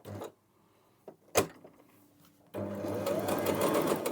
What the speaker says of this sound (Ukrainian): Швейна машинка робить гудзикові петлі.